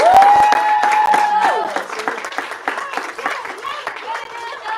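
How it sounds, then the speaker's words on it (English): A crowd breaks into dense applause with cheering, a whistle-like tone at the start, clapping continuing steadily throughout. "And one more big round of applause"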